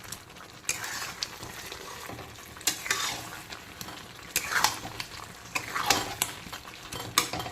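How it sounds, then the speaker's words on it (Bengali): Potatoes for alur malaikari are stirred with spice paste in a pan, giving a soft sizzle punctuated by bursts of scraping and the clatter of a metal spoon on the pan. "এখন আলুগুলোকে বেশ কিছুক্ষণ পাঁচ সাত মিনিট সময় নিয়ে এই পুরো মশলার সঙ্গে আবারও কষিয়ে নেব"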